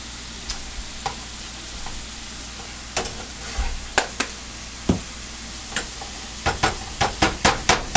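A spoon stirring garlic salt and basil into lasagna sauce in a pot, with scattered scraping clicks that quicken into a rhythmic run of taps near the end, over a soft sizzle.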